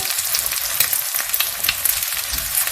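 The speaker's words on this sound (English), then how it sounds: "Slowly and gently stir" Seasoned eggs in a frying pan being slowly and gently stirred, with a steady close sizzle and soft scraping strokes throughout, no voices.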